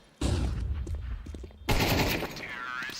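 AK rifle gunfire in a competitive shooter match, two sharp bursts of rapid shots close up with a short gap between them.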